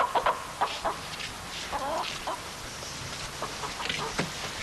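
Several chickens cluck in short, irregular bursts at close range, with a few squawks standing out over a faint background hum and no talk.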